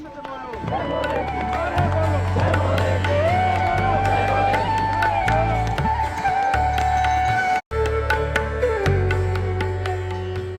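A large crowd of devotees accompanies Baba Kedar's palanquin procession at Kedarnath, a steady loud roar of hubbub and cheering under ongoing music-like tones, sustained throughout with a brief drop near the end.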